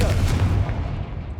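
The Confringo blasting spell from Hogwarts Legacy goes off as a loud, booming explosive burst, followed by a rumbling decay.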